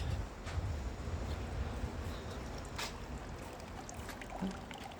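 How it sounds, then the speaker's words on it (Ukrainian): Warm mineral drinking water trickles from a small public fountain at the thermal springs in Baden, Switzerland, a soft, steady running-water wash with faint outdoor background noise and no speech. "Ось такий фонтанчик."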